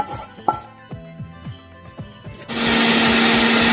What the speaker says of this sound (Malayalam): വെച്ച പൊടി ഒന്ന് മിക്സിയിലിട്ടൊന്ന് അരച്ചെടുക്കാം